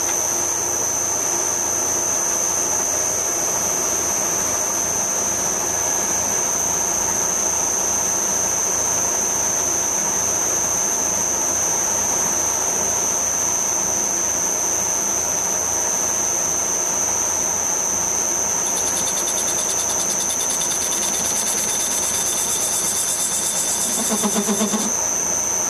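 A lathe fitted with a rear-mounted parting-off tool post runs steadily, a continuous mechanical hum with a high whine, then its pitch and speed shift briefly near the end.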